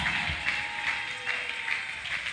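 Congregation clapping together at an Easter church convention, a dense, steady wash of hand claps with a rhythmic pulse, filling the room at moderate loudness.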